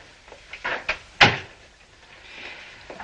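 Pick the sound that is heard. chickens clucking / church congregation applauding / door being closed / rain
door being closed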